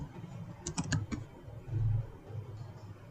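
A brief burst of a few crisp keystrokes on a computer keyboard while typing code, bunched within about half a second, then a quiet low hum.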